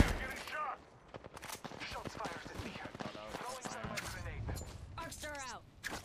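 Rapid automatic gunfire from the Apex Legends video game during a ranked match, bursts of shots running nearly throughout under overlapping player voice chat.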